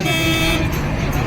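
Busy road traffic hums on an early-morning drive, a car horn tooting in a short steady tone over the rumble of passing vehicles, with a voice speaking briefly.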